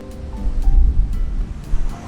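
Low, rumbling surf of sea waves washing in at Shirahama, Wakayama, beside a seaside open-air hot spring, with a steady broadband wash and gusty noise, close by and moderately loud, no voices.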